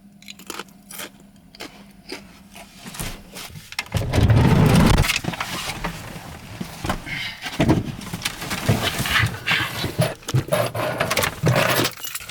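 Keys jangle during vanlife in the desert town of Rhyolite, a brief loud metallic rattle and handling sounds mixed with crunching and rustling nearby, with no speech.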